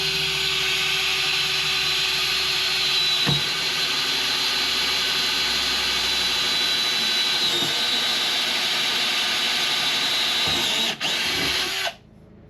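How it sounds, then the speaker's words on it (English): A power drill whines steadily as it bores a hole through a hurricane-damaged catamaran hull, loud and close for most of the clip, then stopping abruptly near the end with a couple of clunks. "Next we're gonna drill a hole where it seems like in the front, where it ends."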